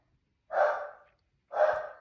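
A dog gives two separate, fairly loud barks about a second apart, in a quiet indoor room with no other sound.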